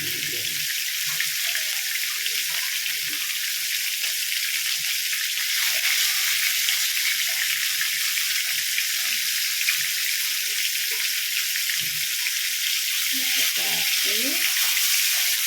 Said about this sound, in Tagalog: It's deep fry.